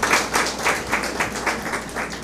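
A church congregation claps in a loose, rhythmic pattern for a couple of seconds during a sermon, the claps landing roughly together in even beats.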